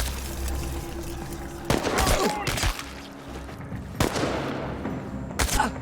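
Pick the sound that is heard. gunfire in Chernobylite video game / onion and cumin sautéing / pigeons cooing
gunfire in Chernobylite video game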